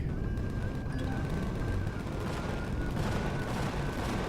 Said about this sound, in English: I am shooting the fortress, of course.